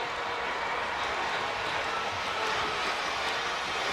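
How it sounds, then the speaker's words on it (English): A big stadium crowd at the Penn Relays roars as women's 4x400 relay runners come around the bend, a dense, steady wash of cheering that fills every second without a break. "Listen to that crowd as they come around the bend."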